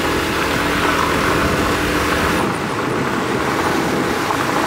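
A motorcycle engine in Kpalimé, Togo, gives a loud, steady engine drone mixed with road and wind rush, continuous and close throughout.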